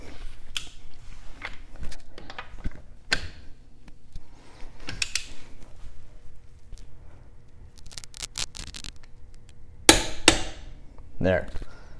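A torque wrench is drawn tight slowly while locked at its setting, giving a run of close metallic ratchet clicks and knocks with one sharper snap near the end, with some quiet talk around it.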